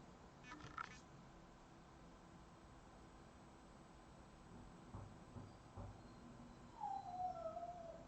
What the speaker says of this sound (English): I'm hearing sad little howling from the other room.